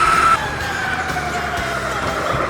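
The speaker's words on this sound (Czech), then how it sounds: "já jsem myslel, že na mě houká auto a to byl zvuk nějakého ptáka" A bird's loud, horn-like call rings out on a road in Japan, a sustained tonal honk resembling a car horn, heard near and clear for a moment before fading under steady road and wind noise.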